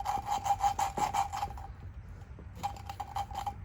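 An engine valve being lapped by hand on a Honda Recon 250 top end rebuild, a quick rhythmic gritty rubbing and scraping of the valve against its seat with lapping compound, close up, pausing briefly before starting again.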